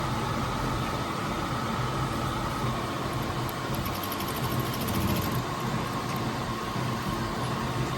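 A sewing machine stitches blouse pieces together, producing a continuous close, busy mechanical whirr with rapid needle chatter that briefly quickens midway, running steadily without any voices.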